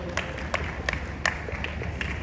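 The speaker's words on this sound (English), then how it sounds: "Clap and support our fighters. Keep clapping." At a boxing event in Lagos, a few scattered, distinct hand claps ring out at irregular intervals over a low, rumbling room background, fairly faint and sparse rather than full applause.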